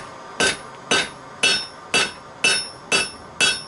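A straight peen hammer forging a hot 5160 steel utility knife blade, with seven evenly spaced ringing strikes at a steady rhythm, each one sharp and bright with a short decaying ring, and no talking.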